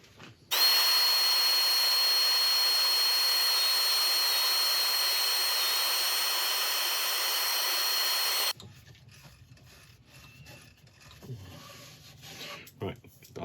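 An oak burl box spins on a wood lathe while being sanded, giving a loud, steady, high whirring drone for about eight seconds before the motor stops and faint workshop handling noises follow.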